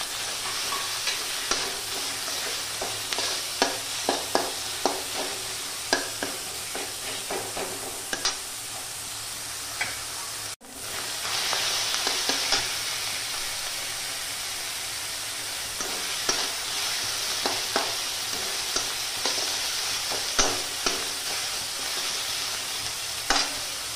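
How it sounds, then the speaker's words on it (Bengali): Onion and ginger-garlic paste fry in a pan with a steady close sizzle, while repeated stirring scrapes and taps the pan throughout, briefly breaking off midway before the sizzling resumes. "পেঁয়াজটা ভাজা ভাজা হলে আদা রসুন বাটা দিলাম, সামান্য একটু কষে নিলাম।"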